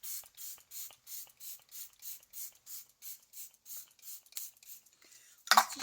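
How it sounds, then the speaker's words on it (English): A makeup setting spray fires in a quick run of about fifteen evenly spaced hissing pumps close to the listener. A brief clatter follows as the bottle is set down. "I like to spray my makeup before I do my mascara"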